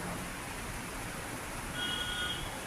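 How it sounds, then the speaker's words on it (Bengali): Steady rain falling in bright sunshine, a soft even hiss throughout with a faint beeping tone partway through and no one speaking. "এখন বৃষ্টি হইতেছে"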